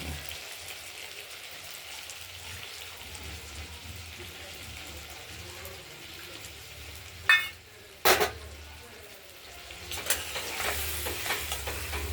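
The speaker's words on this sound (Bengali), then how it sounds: "এবার টমেটো গলে গেছে, মশলাটাও দিয়ে দিলাম, কষিয়ে নেব।" Tomato and spice masala with turmeric frying and being stirred in a pan for a rohu fish curry, a steady soft sizzle with a couple of sharp scraping clanks partway through and louder stirring near the end.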